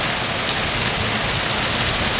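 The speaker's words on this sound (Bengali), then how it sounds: "বৃষ্টির যে অবস্থা, কখন বেরোতে পারবো জানি না" Torrential monsoon downpour over a big open field in Senbagh, Noakhali, a dense, steady roar of heavy rain hammering the surface close by, unbroken and loud, with no voices.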